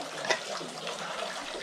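Fresh mountain water runs steadily from a trail fountain on Seoraksan, a soft, continuous splashing hiss heard up close for a brief moment.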